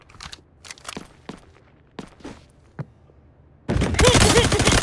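Soft, scattered footsteps creep along in the Delta Force game on the Space City map, then give way to loud, dense bursts of gunfire that fill the rest of the moment.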